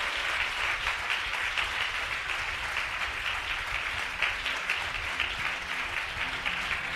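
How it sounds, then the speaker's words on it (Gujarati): Sustained applause fills a church sermon hall for about seven seconds, a steady dense wash of clapping from many hands in the audience with no speech over it. "અવાજે તાળીઓ વગાડીએ."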